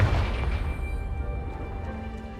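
Tail of a Confringo explosive spell blast in the video game Hogwarts Legacy, fired at a pile of debris blocking a stairwell: a fading, rumbling boom with scattered crackles as the blast dies away.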